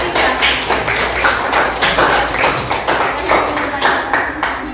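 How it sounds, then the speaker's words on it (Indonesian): Classroom applause for a presenting student group, a steady run of loud, close hand claps with an irregular rhythm lasting throughout, with no voices over it. "Tepuk tangan dulu untuk kelompok 3."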